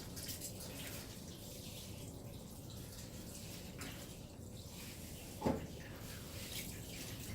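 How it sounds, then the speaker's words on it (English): Water from a hose rinses a dip box condenser coil during a detail clean, a steady broadband spray and splash running throughout with one brief louder splash near the end. "All you gotta do is rinse some water so that all this gets rinsed off."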